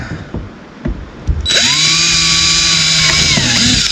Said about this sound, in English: we'll just drill it in